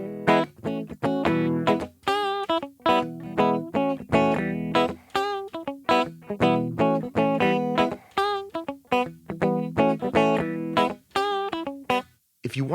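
Sped-up gospel quartet drive rhythm on guitar, with crisp, choppy muted strums and short bass-note riffs in a steady driving pattern, played alone.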